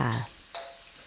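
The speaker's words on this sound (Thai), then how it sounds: "ผัดจนเครื่องแกงนะคะ ส่งกลิ่นหอมนะคะ" Chili, garlic and pepper curry paste sizzles as it is stir-fried in a pan for a catfish dish, a short burst of frying with a brief scrape of stirring.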